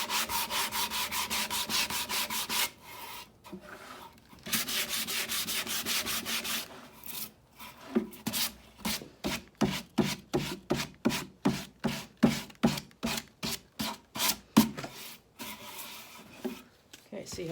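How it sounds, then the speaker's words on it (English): An orbital sander works over the sides of a painted wooden dresser, a steady buzz that breaks into rapid rhythmic strokes of scrubbing, close and loud. "I'll go around with my orbital sander and I'll give these a real good clean off."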